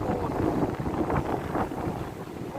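Wind gusting steadily across the shore of Lake Illawarra in New South Wales, Australia, a loud continuous broadband rush with microphone buffeting that persists throughout.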